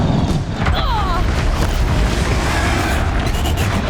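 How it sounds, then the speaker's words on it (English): A platform collapsing in Horizon Zero Dawn, a loud rumbling boom with crashing debris and a dense low roar that stays steady over the whole stretch, thick with game noise. "One more pillar and that platform will come down."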